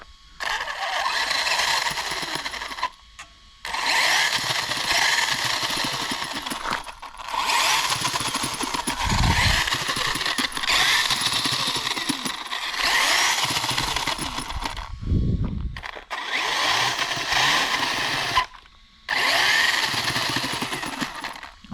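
A Kyosho FO-XX radio-controlled car with chain-drive transmission runs in bursts outdoors, its high, buzzing motor and chain whine revving hard and then cutting out between several short runs, with a couple of low rumbling surges.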